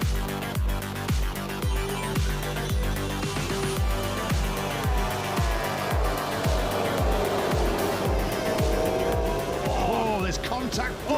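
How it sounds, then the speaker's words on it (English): MotoGP bikes race off the start at the Portugal Grand Prix, with a loud, continuous wall of high-revving engines and a steady rapid pulsing as riders shift up through the gears. "It's lights out, we're racing in MotoGP here in the Grand Prix of Portugal."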